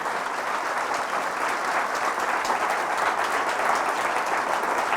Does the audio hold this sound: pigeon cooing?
no